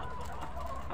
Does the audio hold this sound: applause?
no